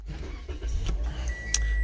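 A car engine is started during a DIY coolant system and radiator flush: a short cranking burst followed by a steady, fairly loud engine idle with a brief metallic click, no talking.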